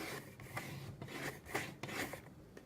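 Blade slicing through a stack of designer paper at a three-inch mark, a series of short scraping, rasping strokes repeating close up with no talking.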